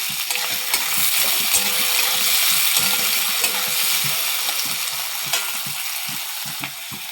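Onion and tomato fry in hot oil with a steady loud sizzle while a spoon stirs them, adding frequent soft scraping knocks against the pan.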